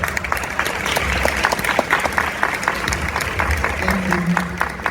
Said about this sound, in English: Another round of applause for our delegate.